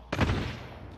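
Gunfire from a distant firefight in the video game Warzone, a short muffled burst of shots that rings out and fades.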